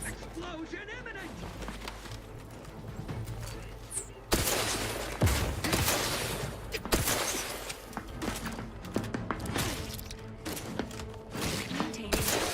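Grenade explosions and gunfire in The Outer Worlds 2 video game, several heavy blasts and bursts of shooting in a dense, loud battle, with game voice lines talking over the combat.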